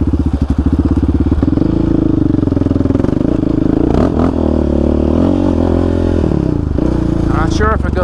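A Yamaha Raptor 700 ATV tears through washed-out desert trails and washes in Arizona, its engine loud and close, revving and surging over steady rumble with rattling clatter.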